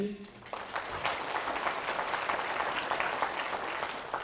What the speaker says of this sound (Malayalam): അത് കൈ ഉയർത്തി കൈയടിച്ച്